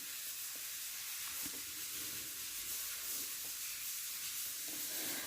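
Food sizzles and fries in a pan, a steady, fairly quiet hiss that carries on throughout with faint scattered crackles and no voices.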